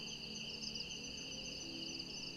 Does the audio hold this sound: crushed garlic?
no